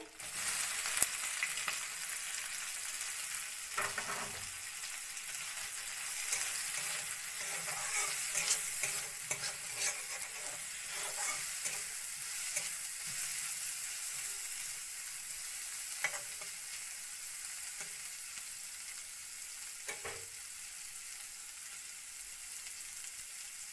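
Chopped onion frying together with dried loitta fish in a pan, a constant close sizzle broken by repeated scraping stirs of a spoon, steady and fairly loud throughout with no talk.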